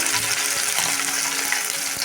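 Chilli chicken pieces and remaining ingredients frying in hot oil, a steady, dense sizzle close up that runs unbroken throughout, with faint stirring knocks underneath.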